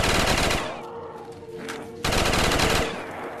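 Rapid gunfire bursts from a zombie VR game: one dense volley, a short lull with a faint ringing tone, then a second loud burst that tails off.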